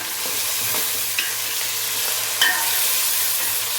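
Fish curry (chapala pulusu) stirred in the pot after more salt, chili powder and turmeric go in, with a steady close sizzle and a couple of sharper scraping stirs; no talking.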